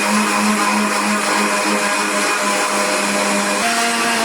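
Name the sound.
mixer grinder grinding soaked batter into paste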